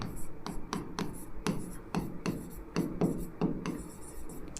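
Chalk or marker strokes on a classroom board, a series of short scratchy taps and rubs in an irregular rhythm, close and moderately loud with a faint room murmur beneath.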